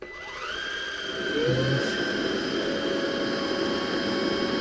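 A cordless vacuum cleaner with a touch-screen display and washable filter whirs up as it is switched on, its motor whine rising in pitch over about a second and then holding a loud, steady hum with a broad airy rush.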